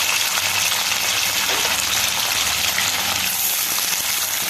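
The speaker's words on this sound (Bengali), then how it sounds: "পনির ভাজিয়ে নিচ্ছি।" Paneer fries in hot oil in a wok (kadai), a loud, close, steady crackling sizzle that holds without pause for the whole stretch with no talk over it.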